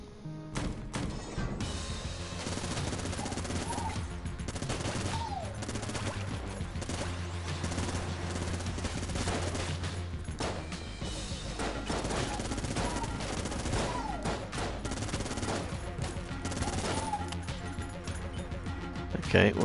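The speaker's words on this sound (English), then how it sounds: "Vulcan cannon, don't have to think about that too much." A Vulcan cannon in the Enter the Gungeon video game fires nonstop, dense rapid machine-gun bursts and crashing impacts layered with game music, loud and continuous for the whole stretch.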